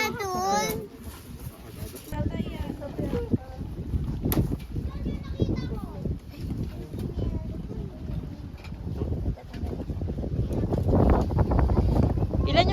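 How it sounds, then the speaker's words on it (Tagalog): Strong wind gusts across the microphone at a beach, a steady rumbling roar that swells louder toward the end. Children and adults chatter and play underneath. "Ang lakas ng hangin."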